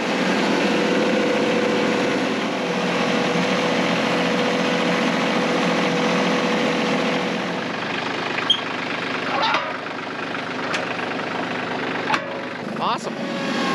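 A steady, droning engine idles close by with a constant low hum, joined later by a few clicks and knocks.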